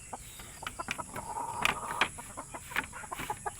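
Texas-breed chickens cluck in short, scattered bursts from a nearby coop, with a few louder squawks in the middle and a faint steady high whine behind them.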